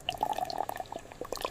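Water trickles and drips as it is poured over ginger for an infusion, a short, quiet run of small splashes and liquid plinks close by.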